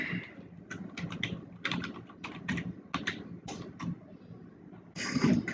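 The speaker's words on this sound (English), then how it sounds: "we're gonna go again to input key, and then we're gonna type our password in." Password being typed on a computer keyboard, a quick run of near, crisp key clicks in uneven bursts, ending with a slightly louder clatter of keystrokes.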